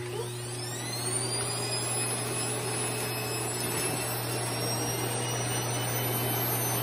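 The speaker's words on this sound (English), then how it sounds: "Next, you need your vacuum cleaner and the hose." A vacuum cleaner runs steadily with a constant motor drone and high whine, unbroken and fairly close, with no talking.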